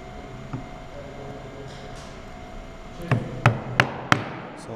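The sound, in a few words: chisel chopping a mortise in wood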